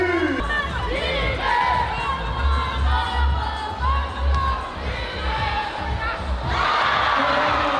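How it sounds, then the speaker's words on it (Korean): Crowd applauding and cheering at a 3x3 women's basketball game, a dense, continuous roar of clapping and shouts that swells near the end, with a commentator talking over it. "응원의 박수"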